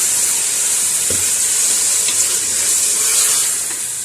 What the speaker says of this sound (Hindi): हल्की आंच पर अभी इस कीमे को थोड़ा सा प्याज के साथ फ्राई करेंगे